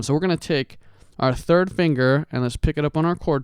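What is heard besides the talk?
None of the usual background noises is heard.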